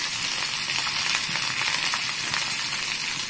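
Asafoetida and coriander leaves sizzle in hot oil for a khaman dhokla tempering, giving a close, steady crackling fry that holds level throughout, with no one speaking.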